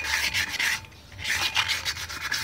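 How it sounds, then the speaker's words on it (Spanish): Sandpaper rubbed in repeated back-and-forth strokes over the brake shoes and drum of a Bajaj TVS mototaxi, a close, rasping scrape with a brief pause in the middle. "Una buena lijada a las dos zapatas, igual al tambor."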